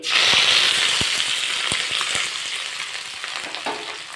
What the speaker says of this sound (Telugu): కళాయి తీసుకొని ఆయిల్ తీసుకొని దీంట్లో ఉల్లిపాయ, ఎండుమిర్చి, తాలింపు గింజలు, వెల్లుల్లి రెబ్బలు, కరివేపాకు వేసి